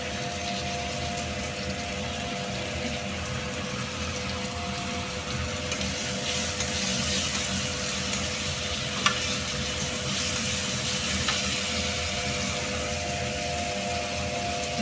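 Chopped chilli, garlic and onion frying for carrot chowmein, a steady close sizzle with stirring scrapes running throughout, loud and continuous with no talking.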